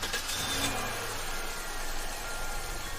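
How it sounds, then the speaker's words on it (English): A truck engine accelerates with a steady, dense rumble that holds at a constant loudness for about three seconds, a brief rising swell near the start and no voices present. "The truck picked up speed"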